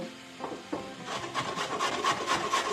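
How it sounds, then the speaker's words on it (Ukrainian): Rough, rhythmic rasping strokes of a carrot on a coarse grater speed up and grow denser, close and fairly quiet, with no talking. "я натру моркву на грубій терці"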